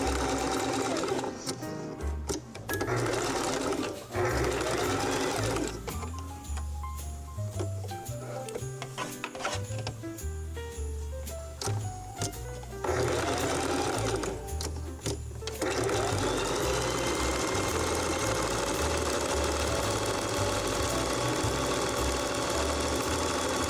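A sewing machine runs a zigzag stitch in bursts, loud and close, with short pauses between runs and no talking.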